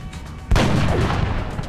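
Soldiers firing weapons in the turn-based game XCOM: after a quiet moment, a sudden loud gunshot burst erupts and carries into a sustained, dense rattle of gunfire.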